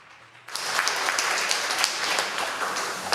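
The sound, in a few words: audience applause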